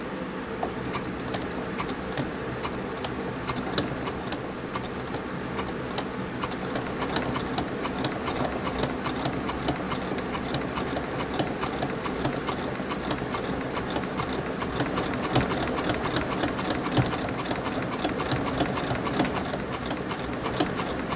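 A sewing machine stitching craft cord runs steadily throughout, a continuous mechanical whir with rapid ticking needle strokes at close range, fairly quiet and alone.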